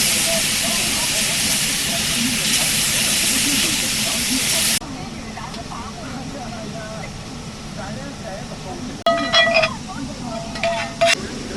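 Steak searing in a pan with garlic butter and rosemary at an RV campground, a steady loud sizzling hiss for several seconds that drops off, followed by quieter crackling and a few sharp spattering pops.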